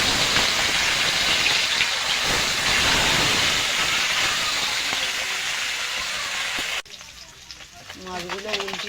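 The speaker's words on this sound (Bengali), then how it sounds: "মাছগুলো ভেজে নেব।" Small puti fish, coated in turmeric and salt, fry in hot oil with a loud steady hissing sizzle that cuts off abruptly, followed by quieter crackling and a brief voice.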